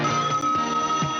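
A voice imitates a telephone ringing, giving a short run of sustained tonal warbles close to the microphone, heard alone.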